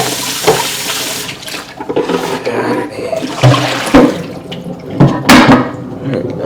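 Tap water runs and splashes over fish tank parts being rinsed in a sink, close and loud, with uneven gushes, clatters and knocks as the pieces are handled under the stream, no speech.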